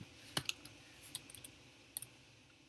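Someone types on a computer keyboard in a quiet room, giving a few faint, irregular keystroke clicks with short pauses between them.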